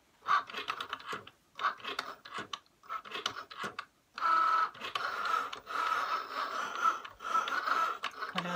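A Cricut Joy cutting machine cutting bunny shapes from cardstock, with intermittent whirring and scraping as the blade moves. It begins in short bursts, then runs as a longer steady grinding passage, close by.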